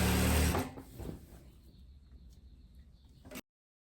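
A sewing machine stitches a hem on a viscose dress, opening with a short loud burst of whirring, then settling into a quieter, even run before cutting off abruptly.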